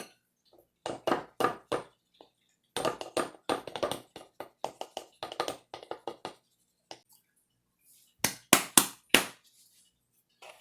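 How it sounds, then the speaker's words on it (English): Cocoa mix pressed down tightly into a glass jelly jar, heard as a series of sharp tapping knocks in irregular bursts, close and fairly loud, with short pauses between clusters. "I'm packing it down tight so I can get the most possible in there"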